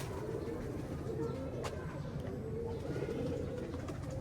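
Pigeons in a breeding setup give soft, low coos and rustles at close range over a constant background hum, with a brief sharp click partway through and no clear speech.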